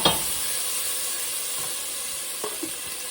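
Garlic hits garlic-flavored olive oil in a heated pot and sets off a steady close sizzle and hiss, with a sharp clatter at the start and a few light stirring knocks later.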